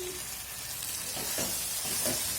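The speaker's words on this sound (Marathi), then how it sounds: "तेल सुटेपर्यंत तो मसाला भाजून घ्यायचा" Spice masala for a sprouted matki rassa bhaji roasting in oil in a pan, giving a loud, continuous close-up sizzle with a few short bursts of stirring, no voices.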